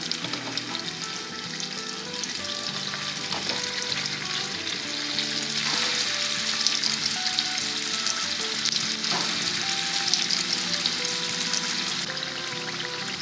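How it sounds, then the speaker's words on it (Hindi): Sweet samosas frying in hot oil on a stove at medium-low heat, a steady dense bubbling sizzle running throughout, close and continuous with no talk. "हम फ्राई करते हैं।"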